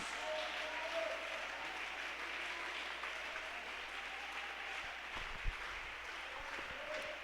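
Congregation applauding in a church service, a soft, distant and continuous patter of many hands, fairly quiet and steady throughout, with a low hum beneath it and a brief thump near the end.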